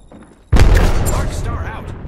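An Arcstar grenade blows up in a shooter game: a short quiet lead-in, then one sudden loud, close blast with a crackling, ringing tail that slowly fades.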